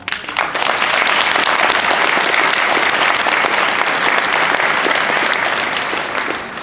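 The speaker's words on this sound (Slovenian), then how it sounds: "potem si zaslužijo en velik aplavz vsi skupaj" Sustained audience applause at a gathering of home care service users in Ljubljana, dense and steady clapping from the start that tapers slightly near the end, with no talk over it.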